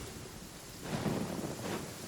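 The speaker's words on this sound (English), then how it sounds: "it does actually rain in the desert on occasion" Rain falls in the desert in Genshin Impact, a soft wash of steady patter that swells louder midway, faint and distant-sounding with no talking.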